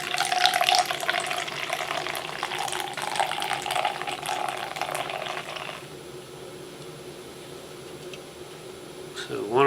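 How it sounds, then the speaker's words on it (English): Coca-Cola with Coffee is poured into a glass, giving a steady fizzy splashing stream for several seconds, then quieter carbonated crackle and faint bubbling. "So now let's try to pour this out into the finest bachelor's glassware"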